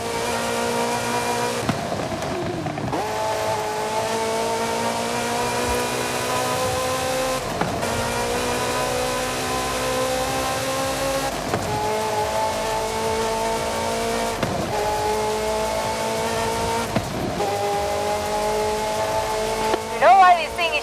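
A Ferrari in Forza Horizon 5 revs loud and close. The engine climbs through the gears with sharp gear-change dips every few seconds, over steady tire roar, and a voice speaks over the engine.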